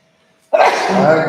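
A single sharp sneeze bursts out in a quiet commissioner's court meeting room after a near-silent pause, loud and close, trailing into a breathy release.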